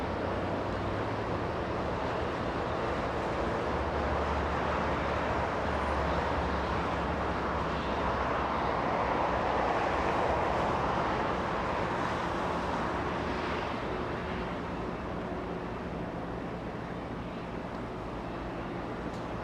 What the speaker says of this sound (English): Flying in from Vienna, 11-hour, 40-minute flight with the 777. 777-200, landing on 24 right.